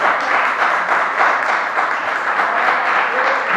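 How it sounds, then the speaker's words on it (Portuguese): A congregation at a church service breaks into loud, sustained clapping, a thick continuous wash of hands that holds steady throughout. "Quantos podem dar uma salva de palmas?"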